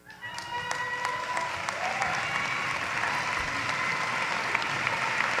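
A large commencement crowd in an arena applauds the class of 2023 graduates with sustained, even clapping that fills the space, along with scattered whoops and cheers over it.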